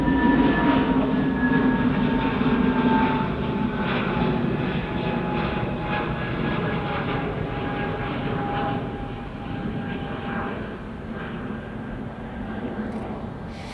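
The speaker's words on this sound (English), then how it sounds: "see the gorgeous Saudi Dreamliner making its way round towards 23 right as well." A Saudi Boeing 787 Dreamliner taxis at Manchester Airport, its engines giving a steady, moderately distant whine and broad roar with a sustained tone, constant from start to finish with no speech.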